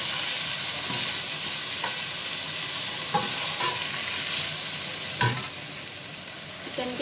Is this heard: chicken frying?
yes